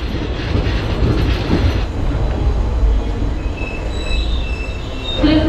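The Teesta Torsha Express pulling into New Jalpaiguri station, with a loud steady rumble of rolling wagons, rail clatter and high metallic wheel squeals near the end.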